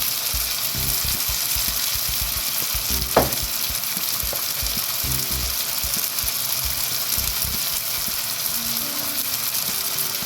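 Onion, tomato and coconut sautéing in a pan for a spicy kola fish curry, a loud continuous sizzle close up with occasional scraping stirs and a brief clink.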